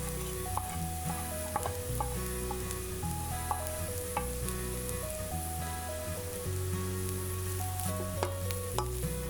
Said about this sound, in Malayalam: നമ്മൾ എടുത്തു വെച്ചിട്ടുള്ള മുട്ടയും ചേർത്ത് നന്നായിട്ട് മിക്സ് ചെയ്തെടുക്കാം.